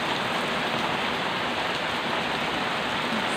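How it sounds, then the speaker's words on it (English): Heavy rain pouring steadily outside a front door during a thunderstorm, a loud, dense, unbroken hiss of drops hitting surfaces close by, with no voices. "the rain's come back."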